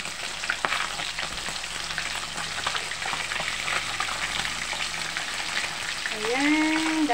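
Tilapia fish steak frying in oil in a pan, a steady dense crackle and sizzle with scattered pops, close and continuous throughout, with a faint whistle-like tone rising near the end.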